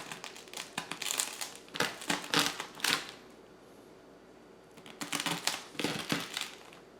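A knife scores and then cuts through a Sicilian-style pizza, giving bursts of close, crisp crunching and crackling strokes separated by quieter pauses, with no talking.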